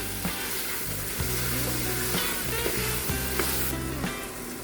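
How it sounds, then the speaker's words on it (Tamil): Tomatoes sautéing in a pan for biryani, a steady close sizzle with periodic scraping stirs of a spatula and soft knocks against the pan, no voices. "இப்போ இந்த பதம் வர்ற வரைக்கும் நீங்க தக்காளியை வதக்கி எடுத்துக்கணும்"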